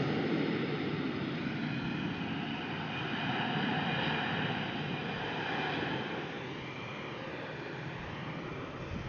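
Jet airliner taxiing on the ground at Brussels Airport, a steady broad engine rumble and whine heard from a distance, continuous and fairly even throughout with no talk.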